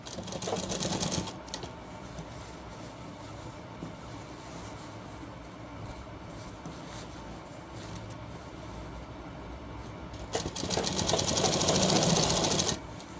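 Sewing machine running steadily as three shirt pieces are stitched together in one pass, louder bursts of fast stitching at the start and end with a quieter hum in between, no talking.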